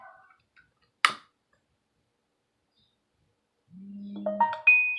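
A mobile phone chimes with a short rising series of electronic tones after a sharp click and near silence, quiet and close, with no talk over it.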